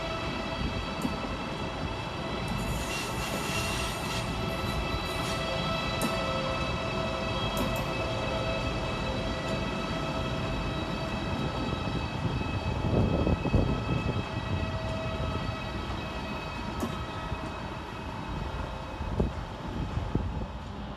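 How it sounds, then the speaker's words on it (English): A Eurostar class 373 set, units 373007 and 373008 in from Paris Nord, arrives at London St Pancras, a sustained rumble of the train under the station roof with steady high whines, rising briefly as it draws in, no talk. "Also arriving to terminate with a Eurostar service off Paris Nord is 373007 and 373008."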